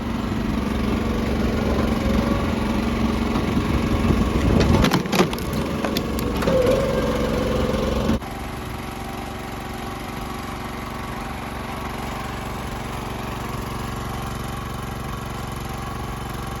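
A 420 cc small engine runs steadily at roughly 1,500–2,000 RPM while driving a wood splitter; wood cracks and splinters around the middle, then the engine drones on alone at a slightly lower level, loud and close.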